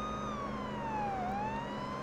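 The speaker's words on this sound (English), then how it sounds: "Why is the siren not on? There it is." A police car siren wails in the Police Simulator patrol game, one smooth continuous tone sweeping down and then back up, steady and fairly close, with nothing else over it.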